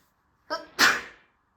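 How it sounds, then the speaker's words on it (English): A single sharp sneeze, a short intake followed by a loud burst, close by, with silence before and after. "Sneeze."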